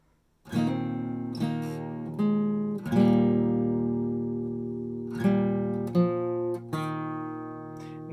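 An acoustic guitar in drop D with a capo plays a fingerpicked passage, ringing chords and single notes walking down a string to the open, clear and close, with no voices.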